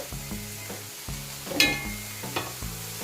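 Crispy stir-fry noodles sizzle and crackle in a pan, with stirring and scraping strokes and a brief brighter hiss midway, close and moderately loud with no talk.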